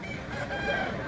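A rooster for sale at a Sunday rooster market calls out once in a brief, dense burst amid busy crowd noise.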